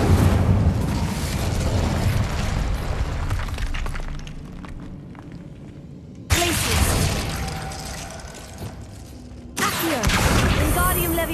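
A fire spell cast in a Hogwarts Legacy-style magic game, with loud roaring bursts and crackling blasts that cut off abruptly and flare up again, no talking over it.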